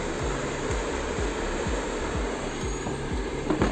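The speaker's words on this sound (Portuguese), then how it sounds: "Aqui ó, o motor ventilador, ó, está girando." A Mondial AF-32-RI air fryer, rusty and being repaired, runs its fan motor with a steady whirring hum and a regular low rhythmic thump repeating about twice a second, close up and with no voices.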